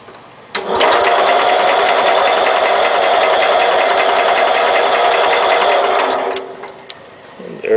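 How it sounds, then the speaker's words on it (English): A John Deere 110 round-fender lawn tractor engine starts up and runs steadily, close and loud, with a busy mechanical whir that holds for about six seconds before dropping away. "Turn the engine over"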